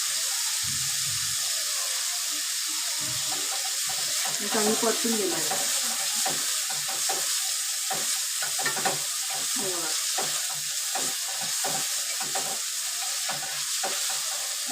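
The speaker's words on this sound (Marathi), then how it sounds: "कंदा भाजला है मी भाजते टोमॅटो चांगला परतन देते" Onion and tomato fry in a pan for sevai upma under a constant close sizzle. Frequent scraping and knocking strokes of a spatula run throughout, and a faint voice murmurs briefly partway through.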